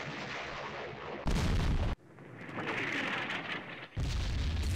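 Artillery fire in the war strategy video game Campaign Series Middle East, with loud booming blasts and rumbling explosions following one another over a steady background, with no talk.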